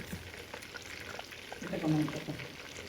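Chicken pieces frying in a pan for Tamil-style chicken varuval, a soft continuous sizzle with a louder burst of frying and stirring near the end.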